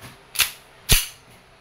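KWC 1911 Tactical CO2 airgun pistol firing 4.5 mm steel BBs, two sharp snapping shots about half a second apart, close and clear, with no speech.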